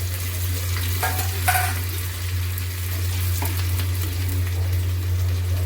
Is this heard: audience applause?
no